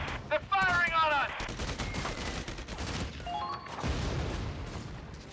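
Gunfire in the Valkyria Chronicles 4 video game, a fusillade of rapid shots and crackling bursts with whistling tones and a thump near the end, loud and close throughout.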